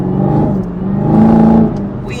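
A 2024 Ford Mustang Dark Horse engine revs close by: a steady throaty drone that swells into a rising rev near the middle, then settles back, with no talking over it.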